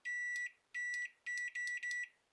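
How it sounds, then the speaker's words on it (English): A microwave oven's control board sounds five bright electronic beeps, two long ones and then three shorter ones in quick succession, each clean and loud against near silence. "it should beep once I hook it right up"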